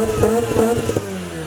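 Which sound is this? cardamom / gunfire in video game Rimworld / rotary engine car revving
rotary engine car revving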